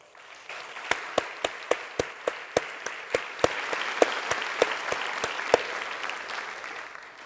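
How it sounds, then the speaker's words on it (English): A conference audience applauds, a broad wash of clapping with a few loud rhythmic claps near the microphone standing out, steady for several seconds before thinning out. "Please give them a warm applause."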